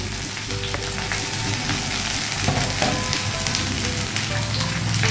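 Noted greens (shak), stalks included, frying in a pan: a steady, loud sizzle runs the whole way through, with a few soft clinks and stirring sounds and no talking.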